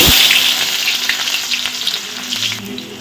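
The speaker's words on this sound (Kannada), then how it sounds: "ಈರುಳ್ಳಿ ಚೆನ್ನಾಗಿ ಒಂದು ಸ್ವಲ್ಪ ಫ್ರೈ ಆಗಬೇಕು" Onions and mustard seeds crackle and fry loudly in hot oil in a pan, a bright steady sizzle with a few stirring scrapes, heard up close.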